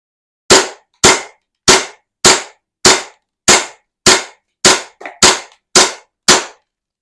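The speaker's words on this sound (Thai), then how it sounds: "ปืน WE นะครับหนึ่งเก้าหนึ่งหนึ่งกระสุนสิบเอ็ดนัดนะครับ โอเค ยิง" WE 1911 BB pistol fires eleven sharp, loud cracks in a steady rhythm, close by, with one shot followed by a small extra rattle; no talking.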